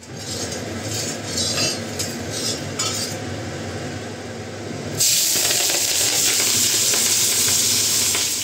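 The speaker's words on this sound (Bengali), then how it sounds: "তো দুপুরবেলা তো কেটে রেখেছিলাম পেঁয়াজ কলি আর আলু, তো এখন এটা ভেজে নিচ্ছি।" Onion stalks and potatoes frying in a pan, a steady dense sizzle that grows louder and brighter about halfway through, with a few clinks of a utensil stirring against the pan.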